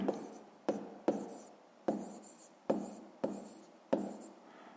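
Handwriting on paper during a fifth-grade math exercise: a series of short scratchy pen strokes, each starting sharply and fading, about seven in under five seconds, close and quiet.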